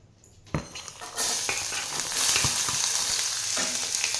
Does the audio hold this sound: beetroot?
yes